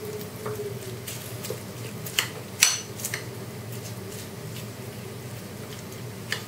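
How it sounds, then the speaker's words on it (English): A spoon stirs seasoning into coconut chutney, with soft wet squishing and a few sharp scrapes and clinks against the bowl, up close and without talk. "Mix the seasoning with chutney."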